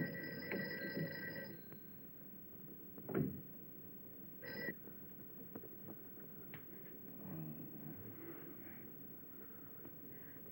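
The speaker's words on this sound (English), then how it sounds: "Mary, see if you can get Jan on the phone" A telephone rings unanswered in an old black-and-white film, with a few brief, fairly faint bursts of ringing over a quiet, hissy background.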